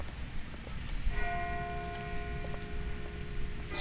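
A bell in The Walking Dead video game rings out with a sustained, ringing tone that decays slowly, sounding distant against a low background rumble.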